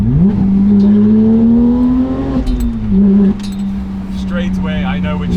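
A Porsche GT3 with a manual gearbox revs hard, its engine tone climbing, then a brief shift break and a steady high drone, with clinking close by and a voice speaking near the end.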